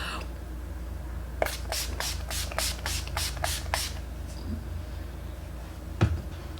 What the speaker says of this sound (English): I'm going to go in with the All Nighter Spray by Urban Decay